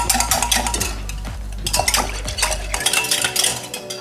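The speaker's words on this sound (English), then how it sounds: "We gotta whisk it." Rapid rhythmic whisking in a bowl for beef noodles: steady brisk metallic clicking and scraping, loud and close, with a low hum beneath it for the first part.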